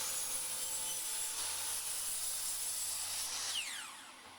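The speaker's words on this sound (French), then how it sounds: "À l'aide de cette cale, je découpe tous mes morceaux de tablettes à la même longueur." A saw cuts melamine shelf pieces to a set length against a stop block, a steady close rasping stroke that runs continuously and tapers off at the end, with no talking.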